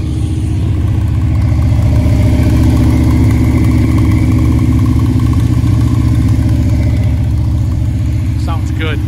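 A 1978 Chevrolet Corvette engine idles steadily and loudly up close, a constant low rumble with no pauses throughout.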